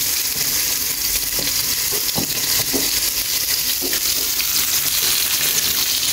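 Food frying in oil in a pan, a dense continuous sizzle with occasional soft stirring knocks, close and steady throughout.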